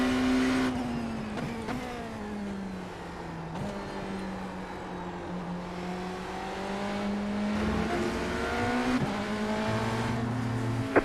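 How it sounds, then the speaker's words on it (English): Hypercar engine in a Daytona race, a sustained droning roar that rises and shifts pitch as the car closes in from behind, steady and loud throughout. "That looks like a hypercar behind me."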